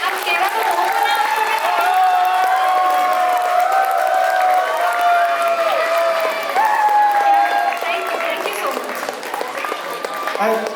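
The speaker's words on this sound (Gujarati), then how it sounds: "બધાની સહિયારી એક સાથે જોરદાર તાળીઓ પાડી દો" A hall audience at a Gujarati community Diwali cultural performance applauds steadily and loudly, with some cheering and a voice talking over the clapping.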